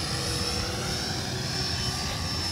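An E-flite F-15 electric ducted-fan model jet flies on its maiden flight, giving off a steady, continuous whine and whoosh with a high tonal component, fairly close and unbroken, with no talking.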